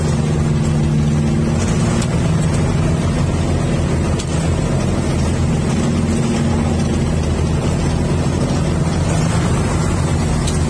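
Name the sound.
boat engine running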